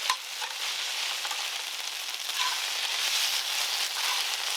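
Curry paste of ginger, garlic, galangal and red chillies frying in a pan, a steady close hiss and sizzle with light crackling spits, continuous and fairly loud.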